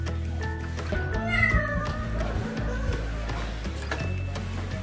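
A house cat meows indoors during a family's evening routine with a toddler: a short, tonal cry near the start stands out over a low household hum, and faint voices are present.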